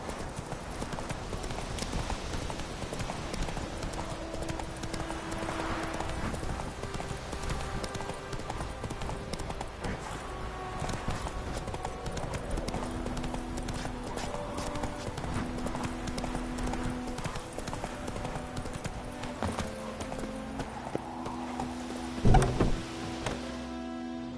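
Roach the horse gallops in The Witcher 3: Wild Hunt, a continuous rhythmic run of hoofbeats under steady game music, with one louder thump near the end.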